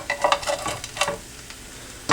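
An egg being flipped in a frying pan on a stove turned down almost to off: a soft sizzle with a few brief scraping and tapping clicks, then a short sharp clatter at the end, with no voices.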